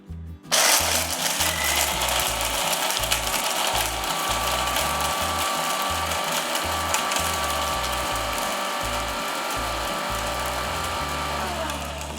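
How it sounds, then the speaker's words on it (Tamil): Kitchen mixer grinder whirring steadily as it grinds dried summer drink ingredients into powder, a loud harsh motor roar with a rattling, pulsing grind that runs continuously after a sudden start. "இதை மிக்சியில் போட்டு பவுடர் பண்ணிக்கலாம்"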